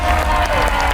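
Studio audience applause on the Indonesian game show Family 100, a dense continuous roar of clapping that stays loud for the whole second, with some crowd noise mixed in.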